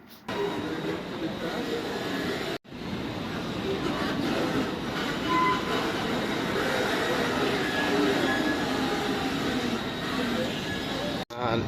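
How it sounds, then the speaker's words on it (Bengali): A Swiss train from Basel to Luzern arrives at the platform, rumbling and roaring close by for several seconds, a continuous loud mechanical drone with faint squeals, briefly cut off twice. "ট্রেন আমাদের চলে এসেছে"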